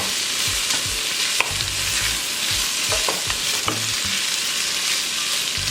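Steak pieces frying in an open pan and being stirred continuously, a bright steady sizzle with scattered scrapes and low knocks of the utensil against the pan, close and with no talk.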